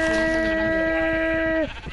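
A sheep in Minecraft lets out a single loud, drawn-out bleat lasting under two seconds before cutting off abruptly.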